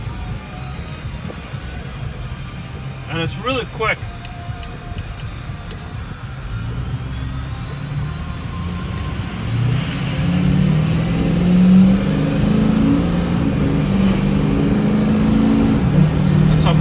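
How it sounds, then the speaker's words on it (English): 2005 Ford F-250 with the 6.0 diesel accelerating, a rising turbo whistle that climbs steadily over a building engine rumble, with a brief spoken line early on. "The turbo whistle on this thing is awesome."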